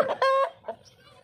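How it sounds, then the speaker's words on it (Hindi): An Aseel rooster on a poultry farm gives a few short, loud, close clucks in a quick burst, with faint farmyard background. "ये मुर्गा है,"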